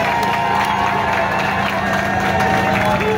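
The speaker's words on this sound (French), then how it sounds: "Nous applaudissons pour notre champion" Crowd at an outdoor campaign rally at the Awendjé roundabout, cheering and clapping in a loud, dense, continuous roar with scattered shouts and a steady hum beneath.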